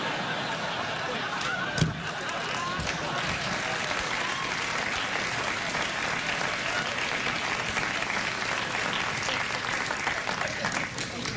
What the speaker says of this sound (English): Are you clapping because you know when the Reformation ended?